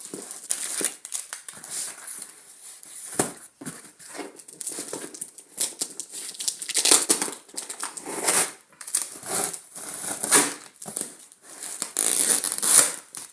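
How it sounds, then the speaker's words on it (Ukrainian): Close crinkling plastic and rustling packaging as a parcel of everbearing Murano strawberry seedlings is opened, with irregular bursts of scratching, tearing and handling over about thirteen seconds. "Далі буде розпаковка. Зараз відкриємо і покажемо."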